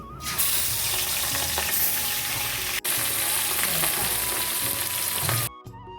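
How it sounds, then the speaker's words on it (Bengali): Fish frying in mustard oil in a wok, a loud, dense, continuous sizzle close by with scattered spatters and a brief break, cutting off abruptly near the end. "এই তেলের মধ্যে আমি মাছগুলো ভেজে নিচ্ছি"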